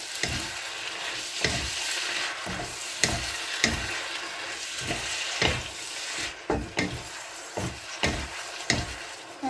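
Vegetables for spring roll filling are stir-fried in a pan, with a rhythmic series of loud scraping and tossing strokes from a wooden utensil over a steady frying hiss.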